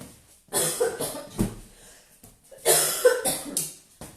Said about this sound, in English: Get a few coughs underway